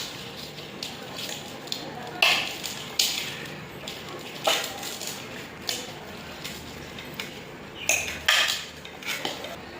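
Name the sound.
stirring sambal in a dish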